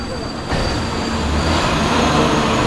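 A subway train rumbles loudly and steadily in a mock subway station on the Universal Studios studio tour, with a high metallic whine from the wheels and rails, growing a bit louder after the first half second.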